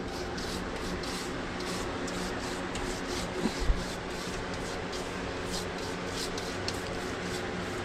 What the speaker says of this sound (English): This stuff is pretty easy to sand